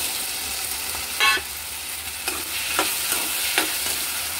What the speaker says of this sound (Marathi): आता त्याच्यामध्ये हा बटाटा आहे ना, तो टाकून देऊया।